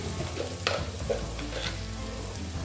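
Spices being stirred in a cooking pan, a low steady sizzle with a few sharp scraping knocks of a utensil against the metal, close and moderately quiet.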